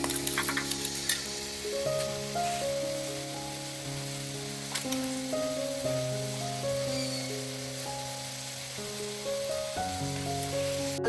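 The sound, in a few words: potatoes frying in a pan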